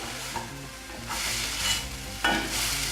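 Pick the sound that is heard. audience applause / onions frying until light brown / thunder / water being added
onions frying until light brown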